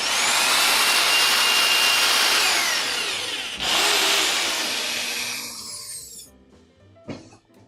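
Power drill driving screws into a wooden table saw stand frame, a loud close whirring burst that pauses briefly, resumes, then winds down, ending with a short clack.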